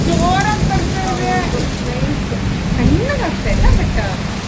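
Heavy rain pouring in Kerala, a dense steady roar with low rumbling underneath, while faint voices and sliding vocal tones come through over the downpour.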